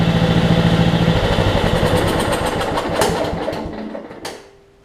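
A Kohler Command engine on a Husqvarna riding mower idles close up with a steady, even chug, gradually settling and fading toward the end.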